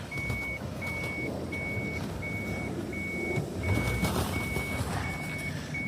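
A Suzuki Jimny backs up with a steady series of about nine evenly spaced, high reversing beeps sounding over a constant low engine rumble.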